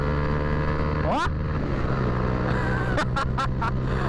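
Motorcycle with a loud aluminium exhaust, idling close by with a steady throaty rumble, then blipping sharply several times in quick succession, with people talking in the background.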